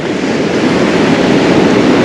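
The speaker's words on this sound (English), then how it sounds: "So here comes your next set of waves." Pacific surf breaks and washes continuously along a San Francisco beach, a loud, steady roar of waves heard up close with wind, no voices.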